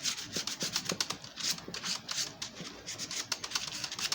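Sandpaper of a finer grit rubs back and forth over a walnut carving of Father Christmas, a steady run of soft, close scratchy strokes with a quick repeating rhythm and no voices.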